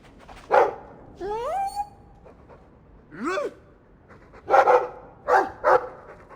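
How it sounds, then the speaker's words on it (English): A dog in Dragon Age 2 gives several short barks spread over a few seconds, mixed with rising whiny yelps, up close against quiet game ambience. "I like the doggy."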